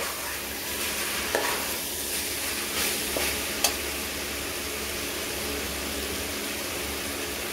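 Country chicken biryani masala being stirred and sautéed in a pan, a steady frying sizzle running throughout with a few sharp clicks of the spoon against the vessel, close and without speech.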